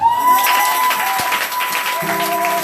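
A church congregation applauds and cheers in a dense, sustained wash of clapping, with a held musical tone running underneath and a second chord entering near the end.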